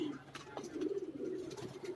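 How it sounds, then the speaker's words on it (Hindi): A French pigeon coos softly in a short, close, rolling call, repeated in low throaty pulses, with faint talk nearby. "फ्रांस का कबूतर, फ्रांस का कबूतर"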